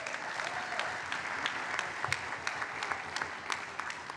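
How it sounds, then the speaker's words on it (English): Steady applause from a seminar audience for a communications department, even and sustained at moderate volume throughout, with individual sharp claps standing out. "Can you give them a round of applause?"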